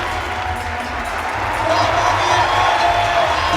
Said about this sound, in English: Now the crowd are behind Monica Ricci here